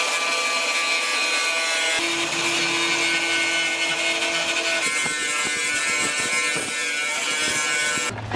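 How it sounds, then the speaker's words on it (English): An angle grinder grinds paint off the metal of a 240sx's rear flares down to bare metal, a loud, steady, close high-pitched whine with shifts in tone as the disc bites, no talking. "I'm just gonna go ahead and grind it down as best as I can to get to bare metal"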